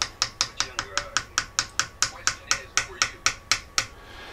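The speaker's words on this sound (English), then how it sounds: "And now I'm going to continue on tapping." Repeated light taps drive a wooden dowel into the bore of a Shiloh Sharps 45-70 Model 1874 rifle, giving about eighteen sharp, evenly spaced knocks at a steady rhythm, close and crisp with no talk.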